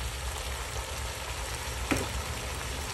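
Patola (sponge gourd) and sitaw (string beans) with mushrooms and a little water sauté in a pan, giving a continuous soft sizzle with a faint stir or tap partway through.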